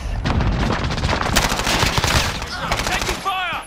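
Loud, close bursts of automatic rifle fire in a Modern Warfare team deathmatch, rapid rattling volleys with brief gaps, and someone shouting over the shooting near the end.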